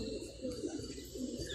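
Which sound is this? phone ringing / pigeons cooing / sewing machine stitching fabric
pigeons cooing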